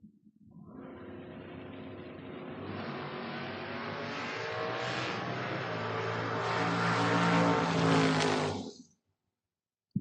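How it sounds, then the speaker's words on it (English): A Chevrolet Camaro drag car launches at a drag-racing event and roars down the strip, its engine note climbing steadily in pitch and loudness for about nine seconds before cutting off abruptly. "Soggy, 637 the dial on the Camaro."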